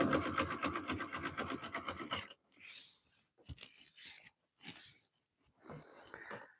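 Sewing machine stitching a fabric strip jelly roll rug with glide thread, a dense rapid whirring run for about two seconds, then short intermittent bursts of stitching separated by quiet gaps, close and alone.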